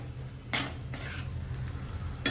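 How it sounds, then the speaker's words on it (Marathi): Spice masala for paneer chingari bhaji roasting in oil in a pan, a soft steady sizzle under a few brief scraping stirs and light clinks of a spoon against the pan. "आपल्याला तेल सुटेपर्यंत आपल्याला छान असा हा मसाला भाजून घेणार आहे"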